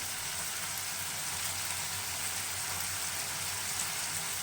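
Chilli chicken fries in a pan with soy sauce and tomato sauce, giving off a steady, even sizzle that hisses on without a break at a moderate, close-up level.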